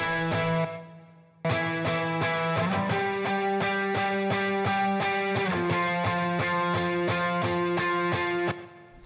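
Electric guitar chords strummed in a steady rhythm, washed in a room-type reverb tail, loud and close, with a brief drop in level before it resumes.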